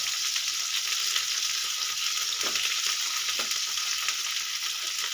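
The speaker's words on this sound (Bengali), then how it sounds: "তারপরে পোস্তটা দেবো এটা আমি সুন্দর করে ভেজে নেব" Poppy seeds fry with bitter gourd in a pan. A steady close sizzle carries on throughout, broken by a couple of soft spatula scrapes as the mixture is stirred.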